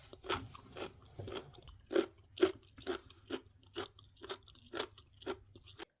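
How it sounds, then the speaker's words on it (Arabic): Crunching of homemade Syrian-style pickled carrot from a turnip-and-beet pickle jar: about a dozen crisp, evenly spaced bites and chews, close and clear, each a sharp crackly burst with no talking. "وكمان قرمشة الجزر"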